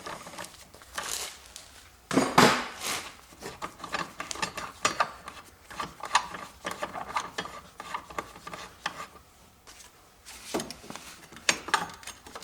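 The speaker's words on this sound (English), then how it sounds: "there is my wrench, and in this direction I rotate" A wrench with a 12mm socket turns a bolt in the cramped engine bay of a Toyota Corolla 1.8 hybrid, making close, irregular ratcheting clicks and rubbing scrapes in short bursts.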